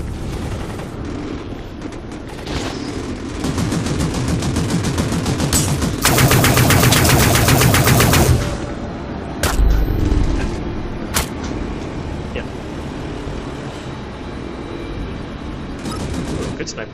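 Gunfire in the sci-fi shooter game Dust 514, with a sniper rifle among the weapons: a dense, loud burst of rapid shots peaks midway, then scattered single reports ring out over ongoing battle noise.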